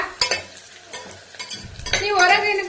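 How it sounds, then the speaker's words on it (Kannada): Green chillies being stirred into a sizzling tempering for egg biryani, with a steady fry hiss, scraping utensil strokes, and a louder sizzle surge near the end, close and without talk. "ಇಲ್ಲಿ ಮಿಕ್ಸ್ ಮಾಡಿ ಆ ಕಡೆ ಈ ಕಡೆ ಅಲ್ಲಾಡಿಸ್ಬೇಕು ನೀಟಾಗಿ"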